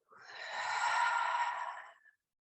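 A slow, audible exhale through the mouth during a guided yoga breathing exercise, one soft continuous breath of about two seconds, close and fairly quiet.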